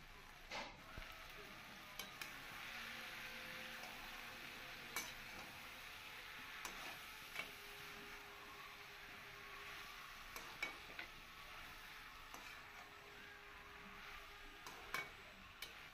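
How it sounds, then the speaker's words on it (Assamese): Chengmora flower greens frying in a pan with onion, tomato, ginger, garlic, salt and turmeric over low heat, a steady soft sizzle with occasional stirring scrapes and light clicks throughout, no talk. "এইখিনি দি একদম কম জুইত 10 মিনিটমানৰ কাৰণে ভাজিম।"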